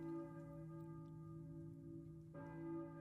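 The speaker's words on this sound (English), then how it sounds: "I hear a church bell" A deep church bell tolls in the 1999 video game Silent Hill, a low, sustained metallic ring that hums steadily, with a fresh strike near the end; faint and distant in tone.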